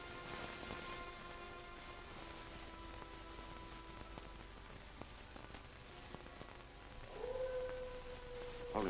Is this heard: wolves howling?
yes